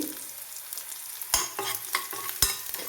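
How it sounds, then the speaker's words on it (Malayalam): Curry leaves, bird's eye chilies and garlic fry in oil with a soft, close sizzle, broken by several crisp spatula scrapes as they are stirred. "ഇതിനൊപ്പം തന്നെ കറിവേപ്പിലയും കാന്താരിയും കൂടി ഇടുവാണ്"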